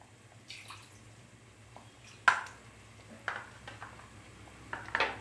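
Water swirls and splashes as a jar of ground masala is rinsed out for tomato rasam. Faint soft trickling is broken by a few louder clinks and splashes, heard close and alone.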